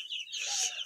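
Small chicks kept alongside quail peep in a quick run of thin, high chirps, close by and moderately faint, with no talking over them.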